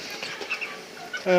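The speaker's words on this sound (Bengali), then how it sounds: "এখনও দেখতে পাচ্ছেন আপনারা মুরগিগুলো হাঁফাচ্ছে।" Broiler chickens on a farm during hot weather, with soft overlapping clucks and breathy panting sounds close by, ending in a louder, sustained bird call.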